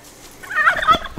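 A single turkey gobbles nearby, a quick burbling rattle lasting about a second.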